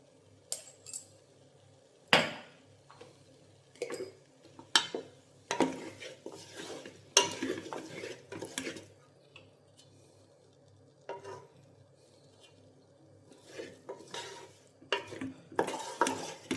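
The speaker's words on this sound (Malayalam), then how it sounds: "നന്നായിട്ട് ഇളക്കുക." Spoon or spatula stirring a cabbage, egg, green pea and cauliflower stir-fry in a pan, with repeated scraping and clinking strokes in irregular bursts over a low background hum, fairly close and with no talking.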